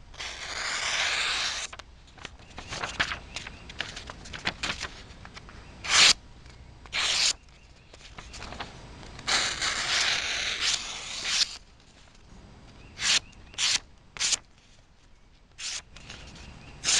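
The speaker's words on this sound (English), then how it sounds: "for some people that like to hear the paper cutting tests, I'll let you just hear it as it's cutting" A Kershaw Skyline knife blade slices through paper in a series of short, crisp hissing strokes, some drawn-out and others quick, close and clear with no talking.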